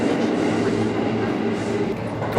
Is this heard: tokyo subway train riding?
yes